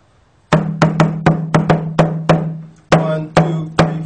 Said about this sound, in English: Rhythm number four has four beats